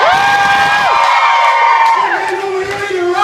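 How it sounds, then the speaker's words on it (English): A crowd at a rock and roll show at The Venue in Orlando, Florida, screams and cheers loudly and continuously, with high shrieks and whoops filling the room from start to finish. "I want you to scream."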